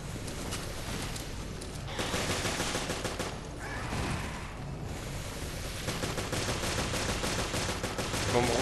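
Heavy, continuous gunfire and rapid bursts in the video game Resident Evil Revelations, loud and dense throughout the stretch.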